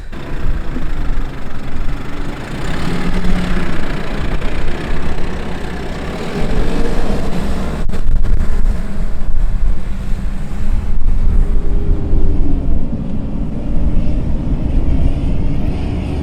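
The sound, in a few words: 4x4 engine crawling out of soft sand in first gear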